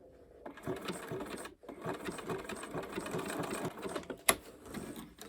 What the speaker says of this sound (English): I'm going to actually use my buttonhole stitch, zigzag, small zigzag stitch.